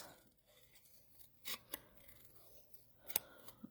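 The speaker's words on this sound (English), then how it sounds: "So I'm going to quickly fussy cut my hearts." Scissors fussy cutting small paper hearts for a handmade card, a few quiet, sharp snips scattered over a near-silent background.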